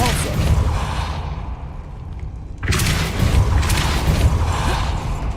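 Depulso force spell cast in Hogwarts Legacy: a sudden loud broadband blast hits midway and keeps rumbling over the low game ambience that follows.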